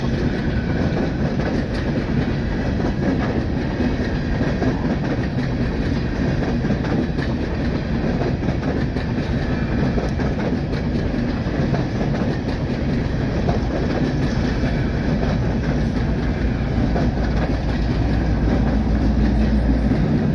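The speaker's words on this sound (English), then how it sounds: "At least we're watching the train go through." A train rumbles steadily past at close range, a loud continuous roar with a faint clickety-clack of wheels on the rails throughout.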